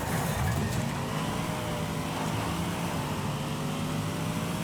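A racing car engine in the Wreckfest video game roars as a continuous, loud drone with a slowly shifting pitch while the car drives down a straightaway, with no talk.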